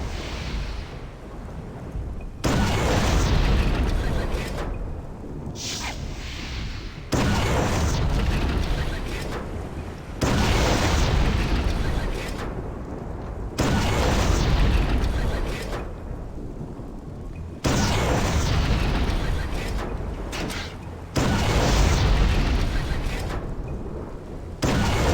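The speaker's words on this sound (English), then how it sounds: "Hating all of these freaking torpedoes" Torpedo explosions in Conker: Live & Reloaded, a string of heavy booming blasts repeating every few seconds, each a loud sustained rumble with short quieter gaps between them.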